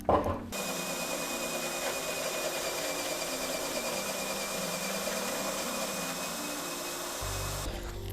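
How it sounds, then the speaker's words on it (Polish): A power drill whirs steadily and loudly for several seconds while drilling plywood, starting and stopping abruptly, with a high whine over the motor hum. "Teraz biorę wiertarkę"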